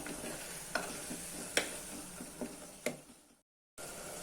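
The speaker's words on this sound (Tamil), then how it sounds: "ஒரு 2 நிமிஷம் வதக்கிக்கலாம்." Ingredients sautéing in a pan for vegetable brinji rice made with seeraga samba rice, a soft steady sizzle with occasional light clicks of a spoon, quiet and close, briefly cutting to silence near the end.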